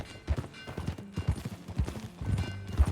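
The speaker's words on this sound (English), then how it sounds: "That new horse?" Horse hooves clip-clop in Red Dead Redemption 2 as the horse walks, a steady rhythm of close, distinct hoof strikes on hard ground, with a faint whinny-like tone in the mix.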